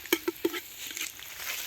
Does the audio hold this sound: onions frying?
yes